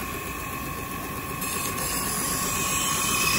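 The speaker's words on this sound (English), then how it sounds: "So from there, we're gonna move on to our stropping machine." A stropping machine loaded with blue Japanese polishing compound runs steadily, giving a continuous mechanical whir with a thin whine, and it grows slightly louder toward the end.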